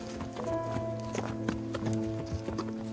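Horse hooves clip-clop in a steady walking rhythm, close and clear, with a sharp clack on each step over a low background hum, at an equine therapy session.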